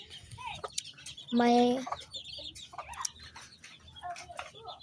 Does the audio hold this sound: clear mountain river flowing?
no